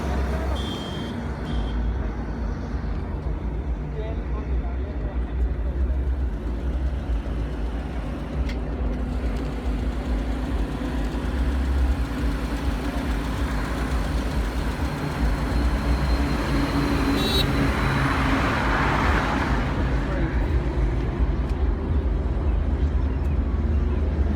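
Modified car engines and exhausts roll along the Eastern Peripheral Expressway, a continuous loud rumble with road roar and passing traffic. Brief faint voices rise now and then over the drone.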